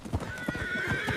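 Cavalry horses waiting for an order paw and stamp the ground, giving a few scattered hoof thuds with an occasional snort or whinny. A high tone hangs steadily in the background.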